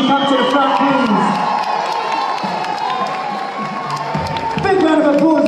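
A crowd at a kids' dance championship cheers, shouts and claps loudly for a mini dance crew, with children's voices whooping throughout, all close and sustained.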